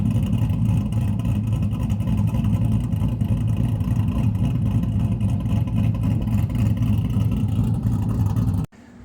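An LSX-swapped GMC truck with an F1A-94 Procharger runs with a deep, loud, steady engine rumble close by, holding an even throb for several seconds before cutting off abruptly at the end.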